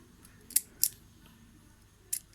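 Quiet scissors snipping as yarn pom-pom ends are trimmed, a couple of quick crisp cuts early on, then a pause before two more snips near the end.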